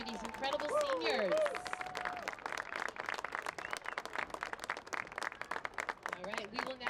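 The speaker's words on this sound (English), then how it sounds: "how about a round of applause for these incredible seniors?" Spectators clapping at a boys varsity soccer senior night, a sustained patter of applause that follows a person speaking over the sound system, with faint voices mixed in.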